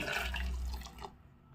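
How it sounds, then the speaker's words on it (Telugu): Water splashes and pours briefly, close by, into a mixer jar, then cuts off into near silence. "ఇదిగోండి నేను సెకండ్ కప్ వాటర్ని వేస్తున్నాను"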